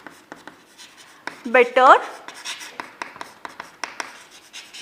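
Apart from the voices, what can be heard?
pen writing on paper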